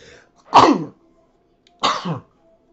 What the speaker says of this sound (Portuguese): Vai com espirro mesmo.